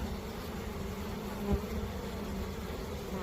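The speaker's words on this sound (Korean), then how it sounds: "어린 벌들이 많지요." Young honeybees buzz continuously and loudly during their orientation flights in hot summer weather, a dense steady hum of many insects close by with no talking.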